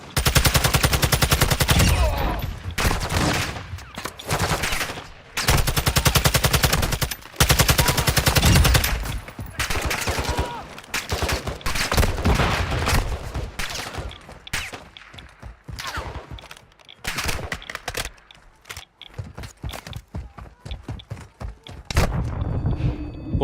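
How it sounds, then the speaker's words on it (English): Exploding shells and heavy gunfire in a zombie shooter video game: long bursts of loud automatic fire alternate with single shots, blasts and short gaps, continuous and close throughout. "See the exploding shells?"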